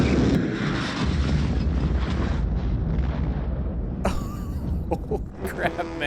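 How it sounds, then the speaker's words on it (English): Explosion in the Mad Max film: a loud, roaring blast with long rumbling, wind-like noise, then scattered debris clatter and crackling near the end. "what an explosion"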